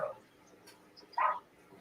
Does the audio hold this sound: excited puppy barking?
yes